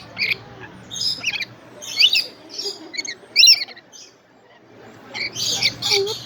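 Birds at feeding time at the Dallas Zoo squawk and chirp loudly in repeated bursts close by, with a short lull in the middle, while people talk quietly underneath.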